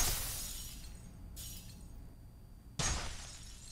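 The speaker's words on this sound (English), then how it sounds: "The same happens if you break the glass." Glass shatters in the video game F.E.A.R., two crashing bursts with the second breakage loud and sharp, each trailing off into tinkling debris and a low rumble, with no voices.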